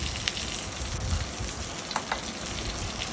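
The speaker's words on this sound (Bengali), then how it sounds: "চিংড়ি মাছগুলোকে খুব হালকা ভাজা করে তুলে নিতে হবে" Prawns fry lightly in hot oil for chingri malaikari, a steady moderate sizzle with occasional soft pops and crackles close by, no voices.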